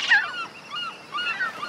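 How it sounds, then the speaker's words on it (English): Seagulls calling near a beach with baby sea turtles, several loud squawking cries in a row, starting with a sharp call and followed by quieter repeated calls, with no voices. "Seagulls are predators of baby sea turtles."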